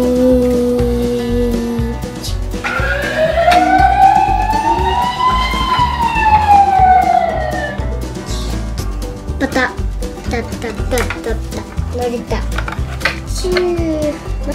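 A toy police car siren from an emergency vehicle toy set wails in a rising and falling sweep for several seconds, loud and close, with clattering and chatter around it.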